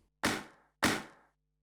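A raw shaker-like percussion sample played twice in quick succession, each a bright, noisy burst that fades over about half a second, isolated against silence.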